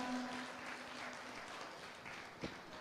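Audience at a live Caribbean gospel song festival applauds, a faint, distant, steady patter of clapping with a murmur of voices underneath.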